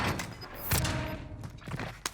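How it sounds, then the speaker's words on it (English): Gunfire and explosions from a Warzone battle royale match, with dense overlapping bursts and heavy thuds, a louder blast near the start, all fairly distant and continuous. "We hear shots and explosions to the 60."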